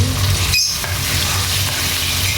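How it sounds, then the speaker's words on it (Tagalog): Garlic and tomato sautéing in a pan give a steady close sizzle, broken by a quick clink and stirring scrape as the tomato goes in. "Gusto ko kasi maraming bawang. Ang bango ng bawang, oh. Smells good, nakaka-relax. And then, kamatis."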